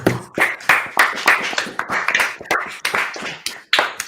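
Someone watching a Manchester City at Liverpool match claps hands in a quick, uneven run of sharp claps. The claps are close and loud, with no talking over them.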